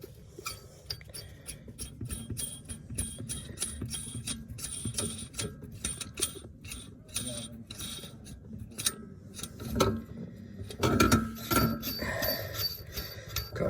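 A vehicle lift lowering a slammed Audi A3 in a custom shop, with a dense, close clatter of mechanical clicks and metallic clinks that swells louder toward the end.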